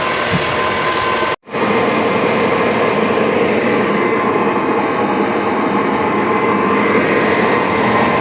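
A tractor's power take-off shaft spins while a KPG-8 Veles Agro cultivator runs, giving a loud, steady mechanical roar with a brief dropout early on, then continuing unbroken and close.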